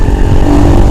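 A Viar Cross X 150 supermoto motorcycle engine revs loudly and steadily up close for a brief moment while accelerating, with heavy low rumble.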